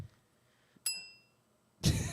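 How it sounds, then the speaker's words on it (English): A downloaded bell sound effect gives a single bright ding that rings out and fades, set between low background noise, followed by a loud burst of rushing noise at the end. "I just quick downloaded a bell sound"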